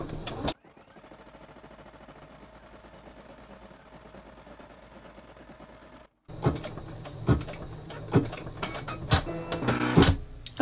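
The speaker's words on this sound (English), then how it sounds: "I'm just going to push go, and it's going to stitch out that first step" An embroidery machine stitches out the first step of a snow globe ornament design: a steady mechanical hum runs for several seconds, then after a short pause a louder, busier clatter follows with sharp repeated knocks, close by.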